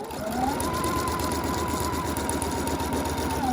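A sewing machine stitches fabric binding with a steady, close, continuous mechanical whirr that runs unbroken throughout, with no voices.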